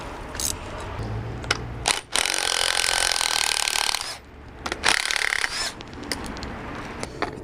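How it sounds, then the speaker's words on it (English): An impact ratchet spins off the strut nut on a coilover for a B5/B5.5 Passat FWD: a loud, close two-second whirring burst, then a shorter one, separated by quieter clicks and handling noises. "So I cheated and used my impact ratchet there"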